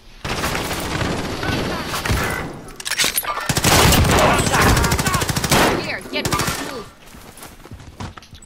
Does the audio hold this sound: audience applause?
no